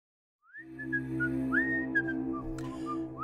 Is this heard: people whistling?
yes